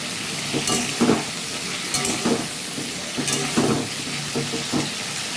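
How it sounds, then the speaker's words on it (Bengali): Potatoes and pumpkin frying in a pan, a loud continuous sizzle broken by rhythmic scraping strokes of a spatula stirring the pieces, close up with no talking. "আর এটিকে ভালো করে ভেজে নেব।"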